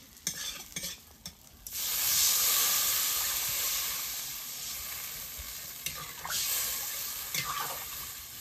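Water hits a hot pan of curry with green chillies, bursting into a loud, sustained hiss of steam after a few clatters, then settling into a softer continuing sizzle.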